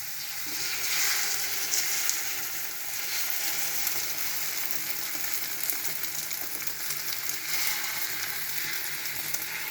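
Potatoes fry in a pan with a steady, close, fairly loud sizzle that crackles on without pause and without talk.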